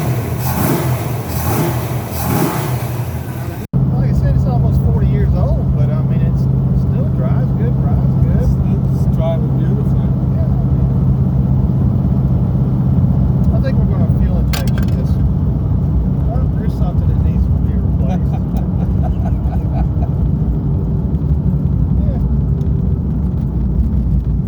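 A 1982 Mustang with a freshly fitted 347 stroker engine idles with a steady low rumble, loud and close, while people talk nearby over the running motor.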